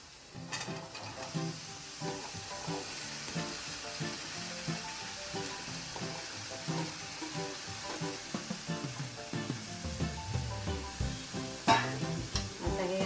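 Vegetables stirred into hot masala for Bhogichi bhaji, a mixed winter vegetable dish, sizzling and frying steadily with scraping spoon strokes throughout, a louder burst of sizzle near the end.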